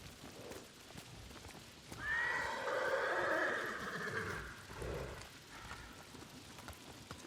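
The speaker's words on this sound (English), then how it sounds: "Horses don't seem to be happy." Unhappy horses neighing in the rain in the video game Ghost of Tsushima, one long loud whinny rising over steady rainfall, followed by a shorter snort, with no talk.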